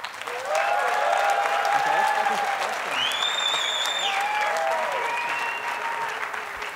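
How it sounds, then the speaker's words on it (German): An audience applauds steadily and loudly at a live Swiss German comedy concert show, the clapping swelling in the first seconds and continuing with some whistles before gradually thinning out. "Klatscht bitte jetzt."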